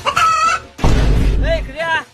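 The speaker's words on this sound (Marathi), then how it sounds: "गाडीत कशाला कोंबड्या घातल्या त्या?" Chickens cluck inside a car, a short burst of fowl calls with a brief rooster-like cry at the start and end, fairly loud and close, with a loud rustling thump in the middle.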